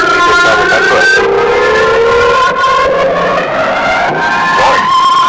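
A car with a 1.5 liter turbo engine drives by close and loud, its engine note climbing and shifting steadily over a rushing road noise, with no voices.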